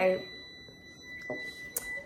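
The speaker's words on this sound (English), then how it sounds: "That's my timer." A kitchen timer beeps in short, thin electronic chirps while a first sourdough loaf is being made, fairly faint against quiet room tone.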